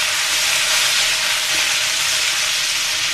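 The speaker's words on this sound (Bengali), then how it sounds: "আমি রসুন আর পেঁয়াজটাকে লাল করে ভেজে নিব।" Garlic and onion fry in a pan for a Bengali radish-greens and lentil dish, giving a steady, dense sizzling hiss that stays close and even throughout, with no talk.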